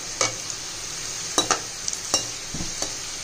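Sliced onions frying in a pan for egg biryani, with a steady sizzle throughout and several sharp scrapes and taps as a spoon stirs them, close up and without talk.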